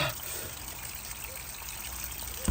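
Water leaking from a hose bib connection makes a steady, faint trickle and hiss, continuous and close, with no talking.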